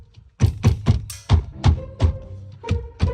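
A Nissan G37 steering wheel being banged loose by hand, giving about nine sharp, close thumps in an uneven rhythm, with no talking.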